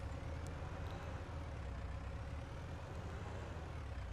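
A tractor engine in the farming game Farming Simulator 19 drones steadily with a low, continuous rumble, alone and moderately quiet throughout.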